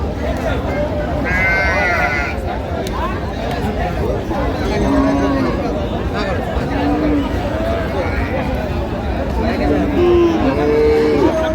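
Cows and calves at a busy rural cattle market in Dinajpur, with several nearby moos and bleating calls rising over a constant crowd of overlapping voices and bargaining chatter.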